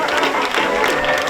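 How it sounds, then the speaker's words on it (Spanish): Crowd at a motorbike gymkhana prize-giving during neighbourhood fiestas in Zaidín applauds a fourth-place finisher, a short, dense wash of clapping and murmur that holds steady and close. "Venga, un aplauso."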